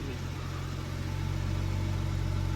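A used Genesis car's engine idles steadily after being started, a constant low mechanical hum with a faint whine, close and even throughout with no talking.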